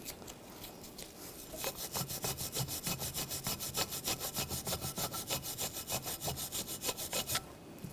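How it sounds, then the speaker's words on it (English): Wire brush scrubbing rust from the rear brake pad mounting area of a 2007-2013 BMW X5, a fast steady rhythm of close, loud rasping back-and-forth strokes, alone without talk. "Just try to get as much of that rust off as possible."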